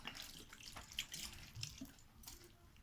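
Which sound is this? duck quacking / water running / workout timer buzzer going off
water running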